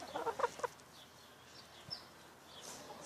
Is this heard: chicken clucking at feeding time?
yes